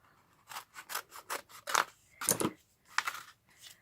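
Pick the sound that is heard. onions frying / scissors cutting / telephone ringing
scissors cutting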